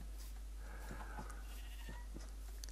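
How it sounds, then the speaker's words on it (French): Sheep bleating in the Minecraft video game, a few short game bleats spread across the moment over a steady background hum, moderately clear with no talk. "tondre ce mouton rose."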